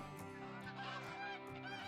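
A flock of snow geese passing overhead, a busy chorus of overlapping nasal honks in quick succession, fairly close and clear with no talk.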